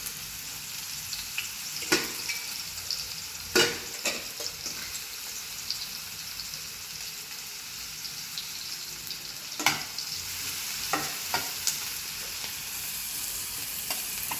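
Chopped onion frying in butter and oil in a pan for egg bhurji gives a steady close sizzle, broken by a few sharp clicks of stirring, with no talk.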